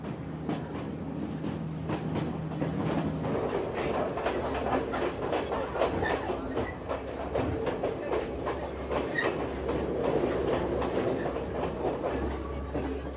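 Steady clickety-clack of a passenger train running through Sri Lanka's hill country, with rhythmic wheel-on-rail beats and a continuous low rumble close by, no voices.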